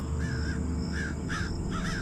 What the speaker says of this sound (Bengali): দূরে কালো কাকের ডাক শোনা যাচ্ছে।